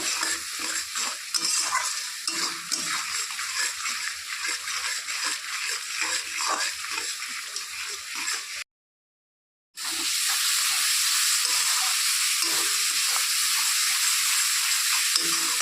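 Spice masala with coriander powder and salt sautéing in a pan for a fish kalia, a steady close sizzle and hiss with scraping stirs throughout, cut by a brief silent gap midway.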